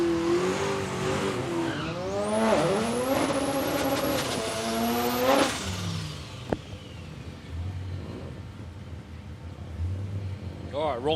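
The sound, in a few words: Ram tow vehicle drag racing down the strip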